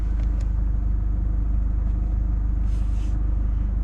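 The engine of a 2012 Mini Cooper All4 with a lit check engine light runs at a steady idle, a close, low rumble that carries evenly with brief faint clicks on top.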